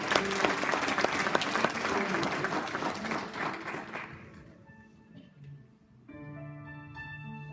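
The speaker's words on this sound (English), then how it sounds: "Let's give a big warm of applause to that living God." A church congregation applauds warmly, dense steady clapping for about four seconds that then fades, leaving faint sustained musical tones from an organ or keyboard.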